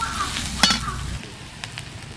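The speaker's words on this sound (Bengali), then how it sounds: "এবার দিয়ে দেবো মুসুরির ডাল, আধ ঘন্টা আগে ভিজিয়ে রেখেছিলাম" Soaked masoor lentils go into a hot pan with cumin and coriander powder, giving a loud close sizzle that breaks into a short clatter and then settles to a quieter frying hiss.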